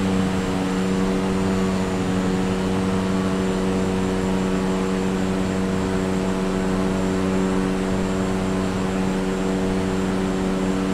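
A plane in Microsoft Flight Simulator descends with flaps out over Mumbai's Bandra Worli area, its engine a loud, steady, unbroken drone that holds evenly for the whole stretch.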